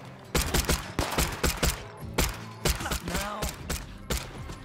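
Gunfire in State of Decay 2, loud close bursts of shots in irregular clusters with short gaps, a faint voice briefly underneath.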